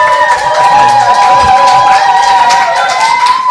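A Korean live talk-show audience claps and cheers for a guest law professor, a dense, loud, steady roar of applause with cheering voices throughout and no speech on top.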